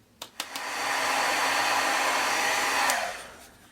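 A heat tool blows a steady, loud whoosh for about two seconds, melting Hero Arts white embossing powder over a stamped banner on a card, preceded by a couple of clicks.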